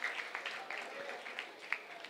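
An audience claps for children's dance performances at a yoga festival in Rishikesh, a fairly light, sparse patter of hands at moderate distance.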